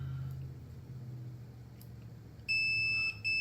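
A multimeter continuity beep during testing of coax cable while building a 1:1 RF choke, a clear steady tone starting near the end, briefly interrupted and resuming, over a faint low hum.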